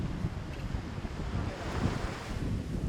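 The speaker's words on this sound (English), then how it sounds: "it's just getting too windy" Heavy wind buffets the microphone outdoors in Bali with a constant low rumble and gusty roar, no voices present.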